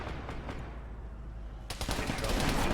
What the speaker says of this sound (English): There's a machine gunner taking cover right there. And he is suppressing them.